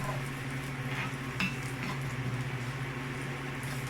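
Pork cubes hit a hot pan for chili con carne and sizzle steadily, with a constant frying hiss and a few light scrapes and clinks of stirring close by.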